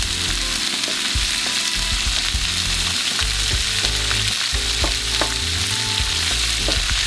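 Beef pieces for stroganoff sear loudly in a pan, a dense, continuous close-up sizzle with occasional clicks as pieces are turned, and no voices.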